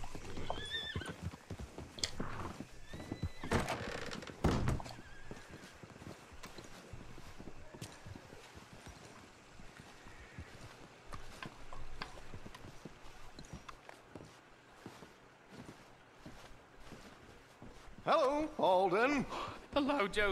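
Horse whinnies and clip-clopping hooves amid game-like ambience from Red Dead Redemption 2, with someone talking over much of it and a louder burst of neighing near the end.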